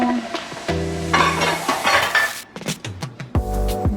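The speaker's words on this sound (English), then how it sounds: "what I need to add now is the onions and the peppers and the seasoning" Onions, peppers and seasoning tumble into a sizzling pan for a broccoli casserole, then a utensil scrapes and stirs them, with metal clinks and clatter against the cookware close by, no talking.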